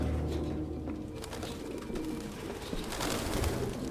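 A flock of pigeons coos steadily in a room in the video game Detroit: Become Human, soft overlapping calls layered over rustling and ambient game noise.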